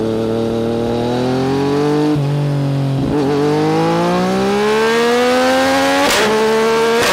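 A 2023 Honda 750 Transalp motorcycle engine pulls close and loud through rising gear runs, pitch climbing steadily, dropping at each shift, then climbing again as the bike accelerates.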